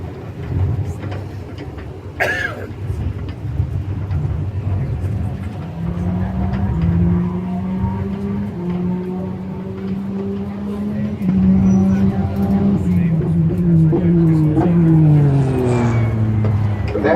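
A race car circles the Daytona International Speedway track, its engine drone rising and falling in pitch as it passes at a distance. Steady wind and ambient noise sit underneath, and voices talk over it.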